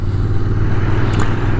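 Royal Enfield Interceptor motorcycle riding along a scenic road near Les Baux-de-Provence, a steady close engine drone with low rumbling harmonics and a brief pitch shift around a gear change, no talking.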